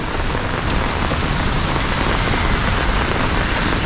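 Heavy rain pours steadily over a street in Nairobi, a dense, even hiss of drops on surfaces that stays loud and unbroken throughout, with no voices.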